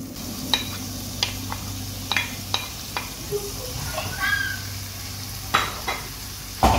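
Roasted eggplant stirred and sautéing in a pan with onion and tomato for smoked eggplant gravy, giving a steady soft sizzle with scattered sharp scrapes and clinks of a spoon against the pan, with no voices.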